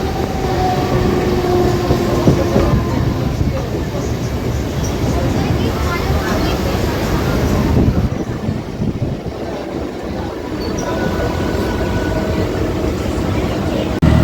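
Steady rumble and rattle of a moving Mumbai Harbour Line train carriage fill the whole stretch, loud and continuous with faint squeals.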